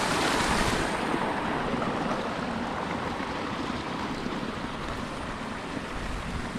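Water waves wash around a boat, a steady, close, loud rushing wash with wind buffeting, continuous with no voices.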